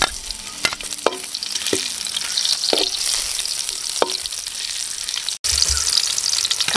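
Ginger, garlic and onion sizzling in a pan for Filipino calderetang puti, a steady frying hiss with occasional stirring clicks and scrapes close up, no talking.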